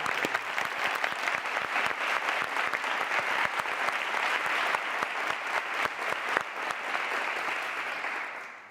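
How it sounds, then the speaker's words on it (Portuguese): An audience of drama students and young actors applauds at a stage interview event, dense, loud clapping filling the room before tapering off at the end, with no voices over it. "Palmas para todos vocês também"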